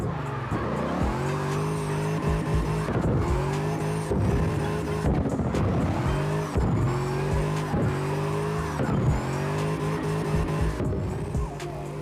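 The Sterling, an Aston Martin-like car in CarX Drift Racing Online, drives and drifts with a loud revving engine that rises and drops through repeated gear shifts, while tires squeal and skid throughout, close and continuous.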